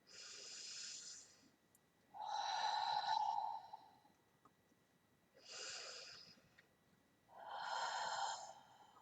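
Four slow, soft breaths out by a person during a quiet reiki session, each long exhale breathy and close, separated by near silence.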